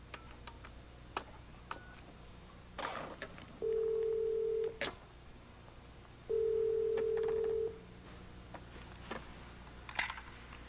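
Telephone being dialed indoors: faint ticks and clicks of keys or dial, then two steady tones of a couple of seconds each, heard close in a quiet room with no talking.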